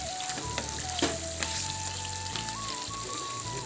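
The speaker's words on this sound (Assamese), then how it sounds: "মাংসটোহে প্ৰথমতে সিজাই লৈছোঁ আৰু মিডিয়াম ফ্লেমতে মই ভাজি আছোঁ মাংসখিনি" Chicken pieces, boiled first, dry-frying over a medium flame, giving a steady close sizzle with a few louder pops and stirring scrapes throughout.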